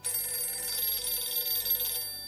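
A telephone rings steadily with a bright electronic tone, continuous and fairly loud throughout, with no voices, in the video game S.T.A.L.K.E.R.: Dreamcatcher.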